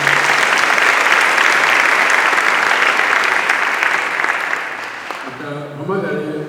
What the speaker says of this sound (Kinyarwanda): reka mwongera amashyi